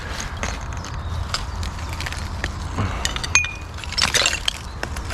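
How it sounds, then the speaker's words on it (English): Footsteps crunch over broken glass at an old bottle dump, a steady run of gritty crackles and sharp clinks from close by, with a few louder glassy cracks toward the end. "Can you hear how much we're crunching the glass?"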